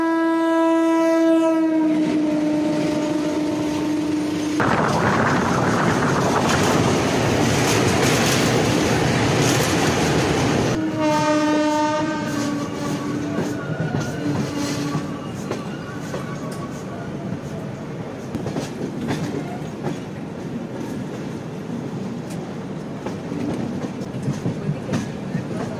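The Howrah Mumbai Mail rumbles along toward Bilaspur, its horn blaring loudly at the start and again midway over a constant clattering roar of wheels on rails, heard from on board without any speech.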